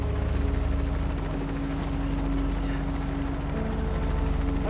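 Steady heavy rotor thrum with a low rhythmic chop, loud and constant throughout, no talking.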